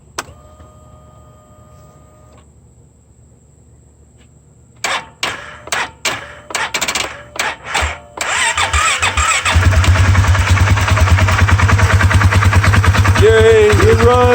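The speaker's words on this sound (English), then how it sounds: "as you can hear, it runs a little rough" A Polaris Sportsman 570 ATV with a swapped fuel injector cranks in several uneven bursts, catches, and settles into a loud, rough, steady idle that carries on to the end, with no talking.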